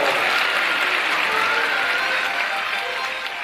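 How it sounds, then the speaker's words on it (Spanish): An audience at a Nutcracker opera show for children claps loudly and steadily, the dense applause tapering slightly toward the end with a faint crowd murmur beneath. "¡Un fuerte aplauso!"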